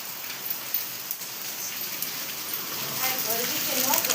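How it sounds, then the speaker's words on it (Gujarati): Rain falls during Diwali-season cleaning at home, with a steady patter of drops on surfaces nearby, a few sharper splats, and the shower growing slightly heavier toward the end. "વરસાદ તો જો કેવો છે"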